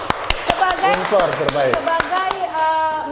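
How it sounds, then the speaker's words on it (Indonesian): An audience at a university youth empowerment event claps in short bursts of sharp, uneven hand claps, mixed with someone speaking over them. "Tepuk tangan dulu nih"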